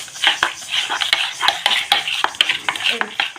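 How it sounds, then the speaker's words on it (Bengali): A spoon works through sweet pumpkin chop batter in a bowl with rhythmic scraping and clinking, a close, repeated stirring of moderate loudness. "দিয়ে এখন আমি ভালো করে মিশিয়ে নেব"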